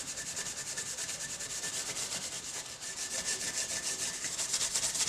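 An aluminum cylinder head surface on a 2000 Mustang being smoothed by hand, heard as a steady, continuous rasping rub of close repeated strokes with no talking.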